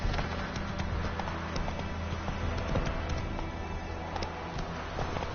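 Roach the horse galloping in The Witcher 3, a continuous rapid drumming of hooves under steady ambient noise, close and even throughout.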